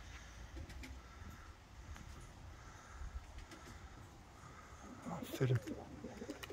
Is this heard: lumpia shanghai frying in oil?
no